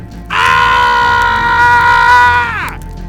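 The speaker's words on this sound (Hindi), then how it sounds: "वो जोर से मुंह ऊपर करके चिल्लाता है" A man lets out a long, loud, sustained scream close up that holds steady before breaking off abruptly, alone without other voices.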